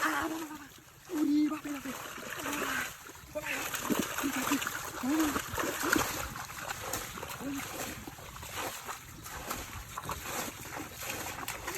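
A caught fish thrashes in water, producing repeated close splashes and sloshing bursts, while excited voices shout and talk over the commotion.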